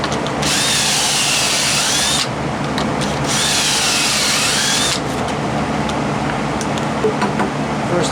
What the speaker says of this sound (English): You're drilling for pocket screws.